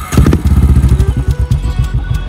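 A motorcycle engine runs loud and close, with a fast, regular thumping beat that stays steady throughout and no talk over it.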